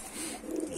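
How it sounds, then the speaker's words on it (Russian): Rock pigeons cooing inside a loft, a short soft low coo, close by and faint, with no talk. "Вот мои сизы"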